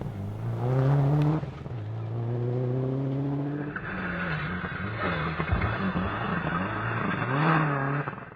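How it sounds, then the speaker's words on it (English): A Subaru Impreza rally car races on a wet stage, its engine loud and close, revving hard through rising and falling gear changes, with no talk over it. "18th after a late puncture came the Impreza of Ian Wilson and Keith Riddick."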